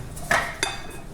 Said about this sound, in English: I'm going to get my muffin cups in here. And I use the silicone.